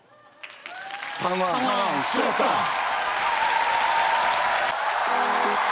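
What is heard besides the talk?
applause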